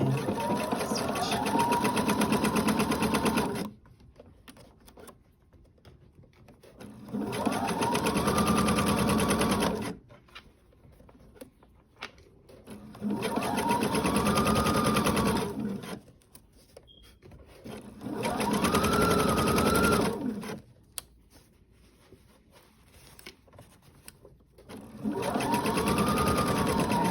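A sewing machine stitches an invisible zipper in five sustained runs of a few seconds each, a rapid loud mechanical whir separated by quiet pauses.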